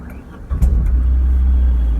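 A Tata Nano car pulls away, its low engine rumble swelling up and holding steady close by, heard alone with faint road noise.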